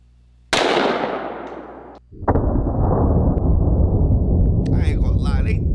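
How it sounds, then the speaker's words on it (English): A 44 Magnum revolver shot at a bear head, one loud sharp blast followed by a second sharp crack and a noisy reverberant tail, with voices coming in near the end. "I'm going to go ahead and take one more shot with the 44 Magnum"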